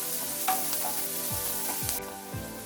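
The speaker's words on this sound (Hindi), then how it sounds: "अभी इसको मीडियम फ्लेम में हल्का सा गोल्डन होने तक फ्राई करेंगे।" Onion frying in a pan over medium flame while cooking a Bengali prawn malai curry, a quiet steady sizzle with a few scraping spatula strokes and light knocks.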